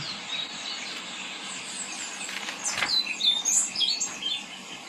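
A bird sings a few clear, high whistled phrases over a steady background of insect and forest hiss in Costa Rica.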